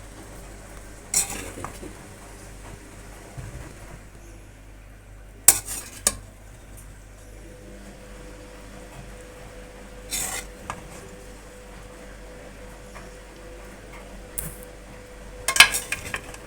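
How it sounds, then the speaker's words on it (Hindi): Aloo dum biryani is served out of a cooking pot, with a few scattered metallic spoon scrapes against the pot over a quiet room hum. One brief spoken word. "ज़बरदस्त सी हमारी बिरयानी जो है वो रेडी हो गई है। अब हम इसको डिश आउट करेंगे।"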